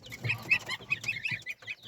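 Short, repeated clucks and chirpy calls from chickens nearby, in quick irregular bursts with soft rustling between them.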